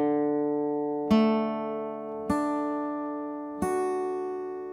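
Notes of a guitar chord ring out one string at a time, each pluck adding a clear, sustained pitch over the fading earlier ones, three distinct attacks in a quiet, close setting.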